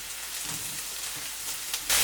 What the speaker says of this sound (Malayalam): ഞാനിവിടെ നമ്മുടെ സവാള റോസ്റ്റ് ചെയ്തുകൊണ്ടിരുന്നത് ഏകദേശം ഒരു 7 മിനിറ്റോളം മീഡിയം ഹീറ്റിൽ വെച്ചിട്ട്